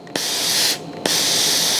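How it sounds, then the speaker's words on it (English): A Laurastar Smart U steam iron blasts steam up a garment sleeve in two loud hissing bursts separated by a brief pause, each beginning with a sharp puff, close by and with no talk. "Spray the steam up the sleeve."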